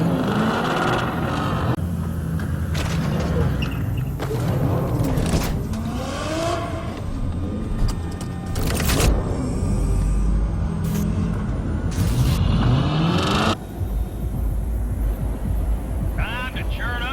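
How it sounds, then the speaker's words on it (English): Car engines in Cyberpunk 2077 start and rev as a convoy sets off across a desert, a loud rumbling roar with rising revs and a few brief gaps, mixed with game sounds and voices talking. "Start your engines, folks."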